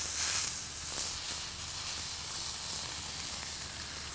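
An 80-20 ground chuck burger patty sizzles on a hot surface, a steady bright hiss and crackle that stays loud and even throughout, with no voices.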